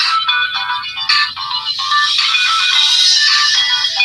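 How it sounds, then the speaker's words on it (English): Cell phone ringtone going off loudly and continuously, a bright repeating electronic melody that fills the clip with no talking over it. "My cell phone always has to ring."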